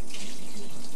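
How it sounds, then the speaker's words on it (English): Water runs steadily from a household tap into a sink, a continuous close hissing splash that holds even for the whole second with no voices over it. "Kevin, why don't you turn off the water now?"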